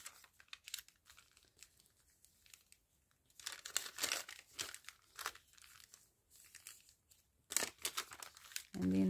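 Light paper of a mini journal made from product bags being creased and pressed flat, giving close, dry crinkling and rustling in uneven bursts with brief quiet stretches, ending in a louder thump.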